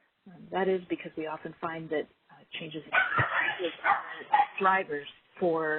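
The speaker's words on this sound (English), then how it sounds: "apologies for the dog" A dog barks and whimpers in the background while a presenter keeps talking through a quarterly energy market report, the yips short and scattered beneath the steady voice.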